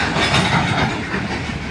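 Train rolling past on a nearby railway track beside a fishing spot, a loud steady rumble and rattle filling the whole stretch, close by with no voices.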